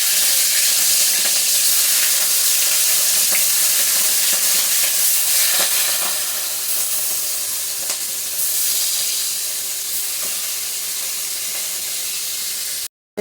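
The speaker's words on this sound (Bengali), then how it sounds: "তেলটা একটু ঠান্ডা হওয়ার পর মাছগুলি দিচ্ছি" Prawns frying in mustard oil, a loud, dense sizzle and hiss throughout, close up and steady, easing slightly partway through before stopping abruptly, with no one talking.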